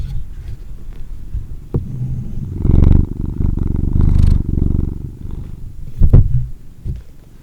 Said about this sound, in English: Can you hear this cat purring?